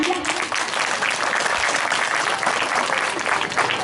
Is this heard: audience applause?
yes